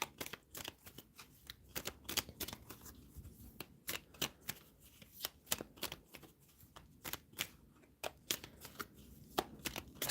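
Tarot cards being shuffled by hand, a close series of crisp riffling slaps and flicks in uneven bursts, with no talk over them.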